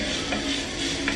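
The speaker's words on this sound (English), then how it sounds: "So I'm just going to saute some onion and garlic" Onion and garlic sauté in a pan with a steady sizzle and hiss, broken by a couple of brief stirring scrapes.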